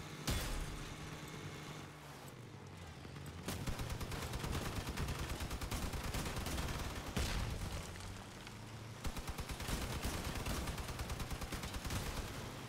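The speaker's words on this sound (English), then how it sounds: "We're just gonna shoot their little tower." Gunfire in the Crossout vehicle combat video game: dense, rapid bursts of shots hammer away almost continuously over a low engine drone, with one short lull early on and no talking.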